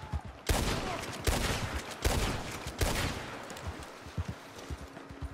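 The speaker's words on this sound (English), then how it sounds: "Yo, why this guy shot at me?" Gunfire in Red Dead Redemption 2 aimed at the player: four loud, sharp shots roughly a second apart, each with a booming tail, then softer clip-clop of horse hooves.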